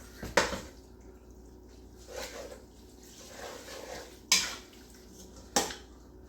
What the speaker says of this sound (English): You want to scrape the pot.